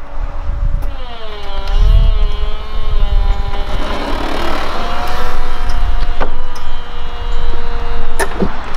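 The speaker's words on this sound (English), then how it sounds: "And you just have to continually hold it, and the top is going down" A BMW E46 convertible's power top retracts under key fob control, a steady electric motor whine with rising and falling pitch over a low rumble, punctuated by a couple of sharp mechanical clicks.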